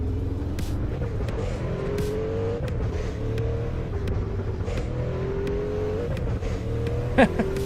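Engine of a car in a driving simulator game revving steadily as it accelerates into a turn and slides, a continuous droning whine with rising pitch sweeps, ending in a brief sharp bump.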